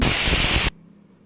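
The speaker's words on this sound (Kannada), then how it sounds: "ಈಗ ಕುಕ್ಕರಲ್ಲಿ ವಿಸಿಲೆಲ್ಲ ಹೋಗಿದೆ" Steam hisses loudly and steadily from a pressure cooker holding eggplant and potato, then cuts off abruptly, leaving a faint low hum.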